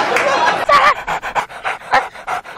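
A performer on a Telugu television comedy stage imitates a panting dog with his voice, quick rhythmic breathy pants delivered loudly and up close in a steady series.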